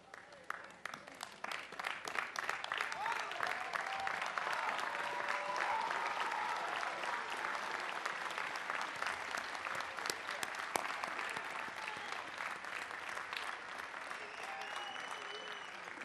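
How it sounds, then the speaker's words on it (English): Sustained applause fills a large venue for graduates at the 2003 Rensselaer Polytechnic Institute commencement, a dense, continuous wash of many hands clapping that stays steady for well over ten seconds. "please join me in a round of applause for all the graduates"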